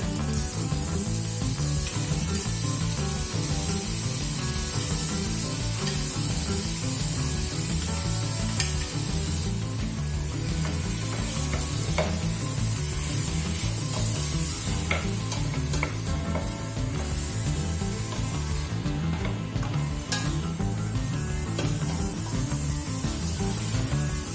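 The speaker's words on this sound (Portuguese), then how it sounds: "Em seguida, deitamos as rodelas do polvo, porque é o marisco mais duro, e deixamos cozinhar" Octopus slices fry in a pan as the first stage of a Portuguese seafood rice, giving a continuous, even sizzle and hiss close by with occasional faint scrapes, and no voices.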